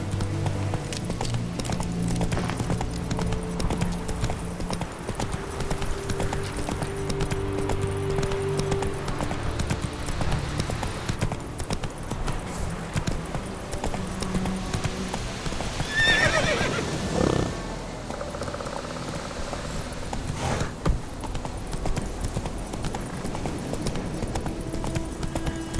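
Roach, the horse in The Witcher 3, galloping with steady rhythmic hoofbeats and an occasional whinny, loud and continuous over game ambience for about twenty-five seconds.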